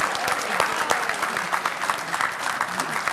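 An audience at a political debate claps for the debaters, a dense burst of applause with sharp individual claps at a fairly close distance, sustained throughout without speech.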